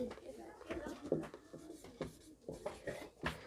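A pen scratches out a class 10 maths solution by hand in short, quick, close strokes, with a voice talking over it.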